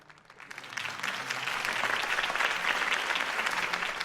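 Applause in the video game Batman: The Telltale Series swells from a quiet start into a sustained, dense roar of clapping from a large crowd that holds steady to the end.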